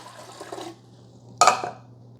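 Vinegar is poured into the empty water tank of a Keurig K-Supreme Plus coffee maker. A short splashing burst follows a quiet pause, over a faint steady hum.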